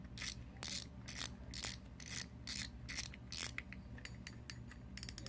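Rapid, steady clicking from a fishing reel's drag system being tightened after cleaning and oiling, a close mechanical ratcheting repeated in even bursts for several seconds with no talk.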